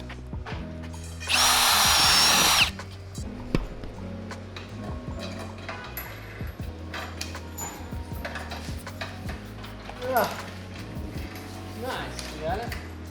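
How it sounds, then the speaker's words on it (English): A power drill bores big holes through a car's side skirt with a short, loud, high whine. Workshop clatter and people talking follow. "so that now we can drill the big holes out"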